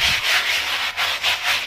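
A Faberlic cleaning glove scrubs a bathroom surface, giving continuous close-up rubbing strokes in a steady back-and-forth rhythm, loud and with no talk.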